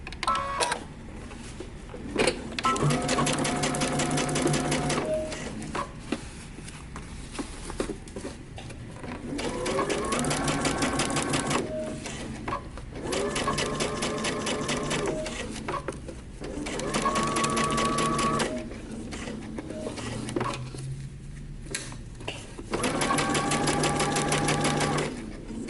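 A sewing machine stitches a pants seam in several bursts of rapid, even mechanical whirring, each run stopping briefly between passes, close and steady with no voices.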